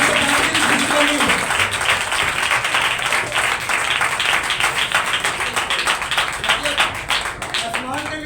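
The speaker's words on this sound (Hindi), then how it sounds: "तालियां बजा सकते हैं।" Congregation applause at a Christian worship gathering, a dense steady wash of many hands clapping that fills the whole stretch, with a voice faintly audible underneath.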